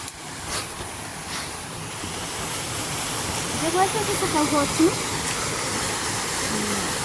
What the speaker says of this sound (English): A small little waterfall.